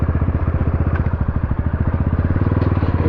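A tractor engine runs at a fast, even putter near a river in Nepal, loud and close with a steady mechanical rhythm and no talk.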